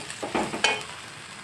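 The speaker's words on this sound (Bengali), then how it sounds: "এবার এর মধ্যে আমি আলুগুলো দিয়ে আবারও একটু কষিয়ে নেব।" Potatoes being stir-fried in spiced oil for a pointed gourd curry give a short burst of scraping stirs and light sizzle, a few quick strokes close by, then a quiet tail.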